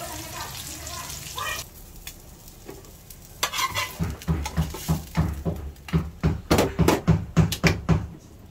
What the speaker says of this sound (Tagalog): fry na po natin yung ating tortang dilis